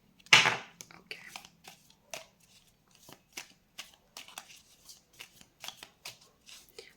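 Tarot cards are shuffled by hand in a quiet room, with a loud opening riffle followed by a string of soft, crisp card flicks and slides in an uneven rhythm, close to the microphone and without talking.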